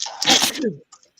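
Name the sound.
a person sneezing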